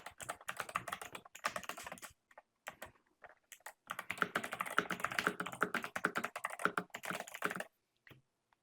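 An 8BitDo Retro 87 mechanical keyboard, Xbox Edition, is typed on in rapid bursts of crisp clacking keystrokes, close up, with short pauses between runs and no talking.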